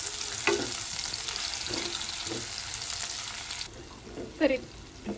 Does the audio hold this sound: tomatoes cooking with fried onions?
yes